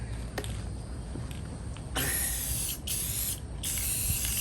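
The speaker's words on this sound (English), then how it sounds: "I'm gonna put a coat of clear paint" Aerosol can sprays clear paint onto a rust-cleaned metal tool in several hissing bursts separated by short pauses, close and loud with no talking.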